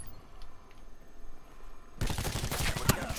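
Dense automatic gunfire in a Call of Duty Black Ops 4 multiplayer Control match, rapid close bursts that begin abruptly partway through and continue loud and steady after a stretch of quiet ambient noise.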